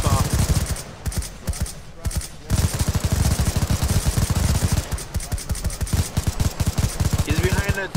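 Rapid automatic gunfire in a World War shooter video game, dense bursts of machine-gun shots with brief pauses, loud and close.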